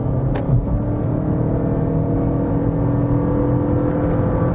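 A hybrid SUV's engine and drivetrain pull hard during an overtake from about 55 to 90 km/h, a continuous close whir and rumble inside the cabin with steady loudness.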